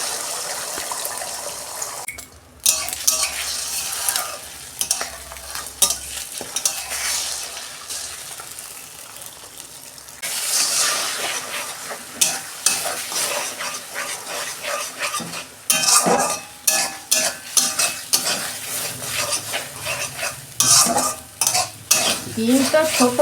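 Four beaten eggs frying in oil in a karai, close up, with repeated scraping and stirring strokes of a utensil against the pan over a soft, intermittent sizzle that grows busier toward the end.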